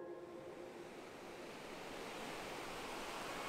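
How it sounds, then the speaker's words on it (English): Ocean surf crashes against the shore on the West Coast Trail in Canada, heard from a campsite as a continuous broad roar that swells slightly louder, with no voices. "packing up camp with the waves crashing against the shore is pretty hard to beat"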